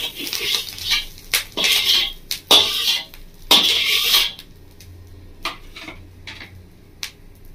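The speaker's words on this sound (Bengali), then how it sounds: "কড়াটা ধুয়ে পরিষ্কার করে নিয়েছি।" A wok is scrubbed and rinsed, giving loud irregular clanks, scrapes and metallic rattles in bursts, then quieter occasional knocks, close by with no speech.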